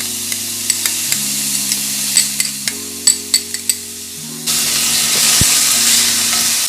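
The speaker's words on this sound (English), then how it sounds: "you're gonna saute this until they're translucent." Chopped onion and crushed garlic sautéing in a small amount of butter in a pan, a soft steady sizzle with sharp utensil taps and scrapes, and a tonal hum in the background that drops away near the end.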